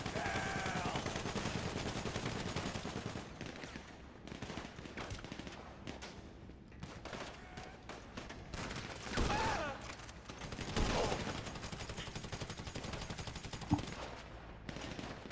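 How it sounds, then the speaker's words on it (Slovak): Gunfire in a video game shooter, with bursts of automatic weapon fire and scattered shots crackling over continuous busy game noise throughout, with no clear talk. "Sprava, sprava do teba takto strieľa."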